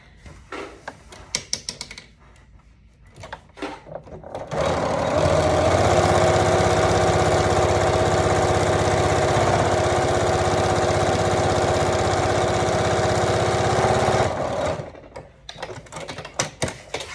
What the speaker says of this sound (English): And now I sew this part shut all the way, just right here.